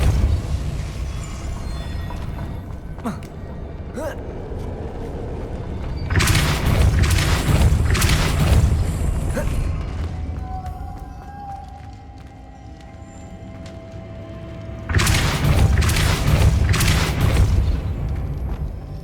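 Depulso force spell cast in the video game Hogwarts Legacy, heard as two loud booming blasts with rumbling tails, separated by quieter ambient game sound and a brief tonal shimmer.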